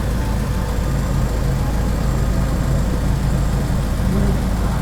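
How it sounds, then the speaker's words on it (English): An EG hatchback car's exhaust idles with a loud, steady low rumble close by, unchanging throughout. "the sound of my exhaust messes with the audio and it just gets all loud and annoying"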